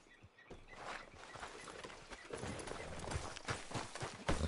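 Horse hooves clip-clop at a steady walking pace in Red Dead Redemption 2, close and fairly loud throughout, with a few sharper hoof strikes near the end.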